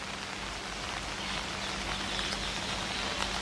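Heavy rain falls in Delhi as a dense, steady hiss of broadband wash that stays loud and even throughout, with no voices.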